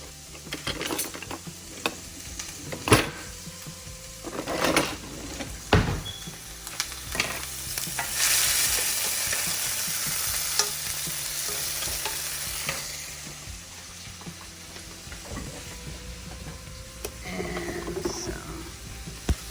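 Seasoning sizzles in a hot pan while a wooden spoon scrapes and stirs it, with sharp clacks and knocks of the spoon over a hissing bed that swells in the middle and then settles.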